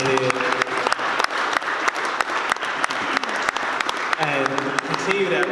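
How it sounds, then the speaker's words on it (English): A panel audience applauds continuously and fairly loudly, dense clapping filling the whole stretch while a voice speaks over it. "Give yourselves a round of applause for being here."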